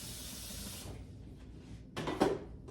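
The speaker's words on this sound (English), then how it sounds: "So the water is boiling for the pasta." A pot of salted water coming to a boil for tuna pasta gives a steady hiss that fades after about a second, then a brief louder burst of bubbling near the end, with no talk.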